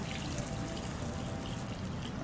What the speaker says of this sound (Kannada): ನೀರು ಹಾಕ್ತಾ ಇದ್ದೀನಿ.